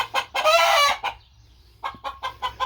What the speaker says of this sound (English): Oh, that's my hen. I thought that was my rooster, but I think she's blind.